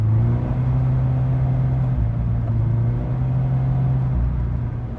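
Salvage-repaired Subaru BRZ TS on its first test drive with a slipping clutch, a steady loud engine drone with a humming, wavering tone heard from inside the car.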